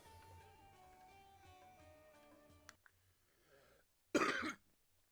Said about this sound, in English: I need to go and cough again